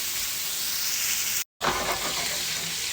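Ribeye steaks searing in hot bacon grease, a loud, dense, steady sizzle heard close up, broken by one brief silent gap before the frying hiss resumes, with no voices.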